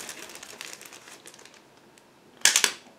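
Plastic crinkles and rustles softly as a bag holding model kit sprues is handled, ending in a louder burst of crackling as it is torn open.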